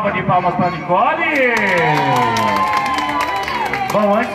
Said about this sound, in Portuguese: Uma salva de palmas para Nicole.